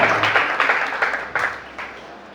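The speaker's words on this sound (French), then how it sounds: "acclamons pour le pianiste" A church congregation in Libreville applauds a pianist during a service, with a short run of brisk clapping that fades over a couple of seconds.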